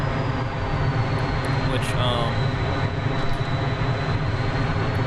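The twin jet engines of an F-14 at military power roar continuously in the DCS flight simulator game, with someone talking over the steady engine noise.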